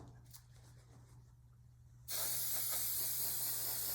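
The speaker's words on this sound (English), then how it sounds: "And I'm just gonna spray them all." An aerosol can of gloss sealer sprays a loud, steady hiss that starts suddenly halfway through, following a quieter stretch with faint handling noise.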